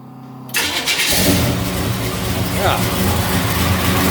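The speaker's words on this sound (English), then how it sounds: "Let's see if it'll start without even touching the gas." A 454 big block Chevy Monte Carlo engine cranks over and catches, then settles into a loud, steady rumbling idle close by.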